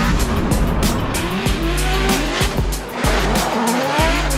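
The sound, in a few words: drifting car on an enclosed street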